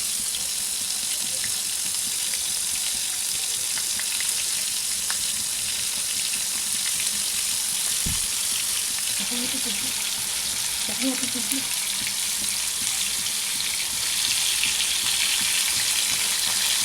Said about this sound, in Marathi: ते पलटून घेतोय बोंबील. चांगले फ्राय झाले पाहिजे, क्रिस्पी.